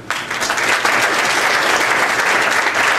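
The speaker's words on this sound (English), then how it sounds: "Give a round of applause, guys." Audience at a 2011 high school graduation ceremony at Starkweather High School in Plymouth, Michigan breaks into loud, dense, sustained applause that starts abruptly and fills the room.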